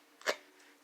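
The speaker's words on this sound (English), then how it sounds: "I think it was a hiccup" One short, faint hiccup stands alone against a quiet indoor background, with no talk around it.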